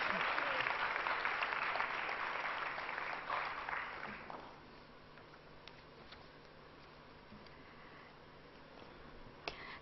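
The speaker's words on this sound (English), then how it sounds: "Can we hear a huge round of applause?" Audience applause at a women's awards ceremony, dense clapping for about four seconds before fading into scattered claps and a quiet hall.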